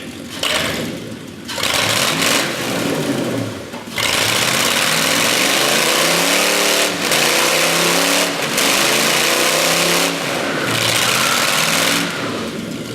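A caged Mercury race car engine revs hard in repeated loud bursts, rising and falling with brief pauses between throttle blips, close and aggressive.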